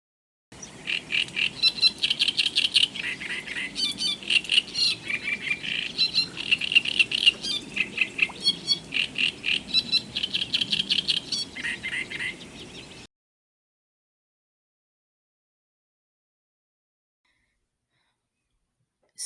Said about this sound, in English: here's a short clip of a male warbler's song.